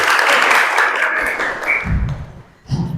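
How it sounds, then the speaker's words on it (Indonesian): A classroom group claps together in a rhythmic spirit clap, a dense burst of hand claps that tapers off, followed by a few scattered thumps and a short final clap. "Oke, tepuk tangan betul"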